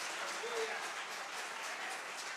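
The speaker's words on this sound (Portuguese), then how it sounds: "Dê uma salva de palmas ao Senhor Jesus, porque Ele conquistou tudo isso na cruz." A church congregation claps together in steady, dense applause that fills the whole moment, moderately loud and even, with no break.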